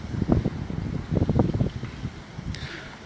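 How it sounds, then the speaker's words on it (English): Gusty wind buffets the microphone in a park in low, uneven rumbling bursts that rise and fall, with no voices present. "it is so windy out"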